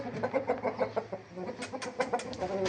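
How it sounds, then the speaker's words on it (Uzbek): A rooster kept for sale clucks and calls in a quick, uneven series of short bursts close by, with farmyard noise in the background. "Mana xo'rozim juda tagi mahkam xo'roz, kunda xo'roz."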